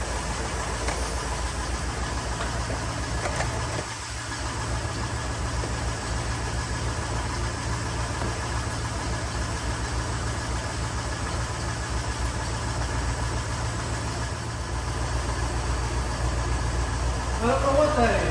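Engine of an old Buick barn-find car idling, heard from underneath the car, a steady low rumble with faint vibration throughout and a brief louder rattle near the end.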